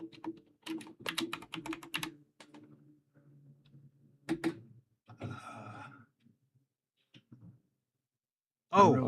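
Quick bursts of computer keyboard typing, clustered keystrokes close to the microphone with pauses between, while people talk in between and a louder noise closes the stretch.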